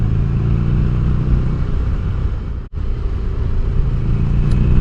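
A Buell XB12 motorcycle heard while being ridden, its engine giving a loud, steady low rumble with a brief dropout partway through.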